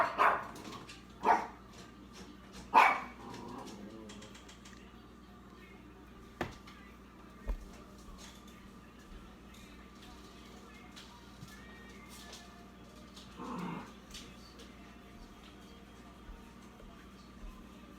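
A dog barks from a home kitchen, a few loud yaps early on and then scattered fainter barks and whimpers spread over a quiet stretch.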